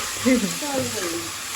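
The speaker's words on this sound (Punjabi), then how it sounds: "ਮਸਤ ਲੱਗਿਆ ਤੜਕਾ ਤੜਕਾ ਲਾਉਣ ਹੈ ਤੜਕਾ ਭੁੱਜ ਜਾਵੇ" A tadka tempering sizzles in a pan while capsicum curry with plenty of onion is cooked, a brief soft frying hiss running under nearby talk.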